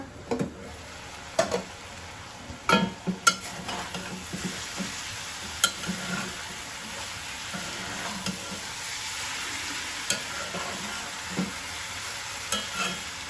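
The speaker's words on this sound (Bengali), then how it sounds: "এখন আমি নাড়াচাড়া করবো দেখি কি অবস্থা" Potato and flat bean bhaji fries in a pan with a steady soft sizzle while a spatula stirs it, giving scattered scrapes and knocks against the pan; no speech.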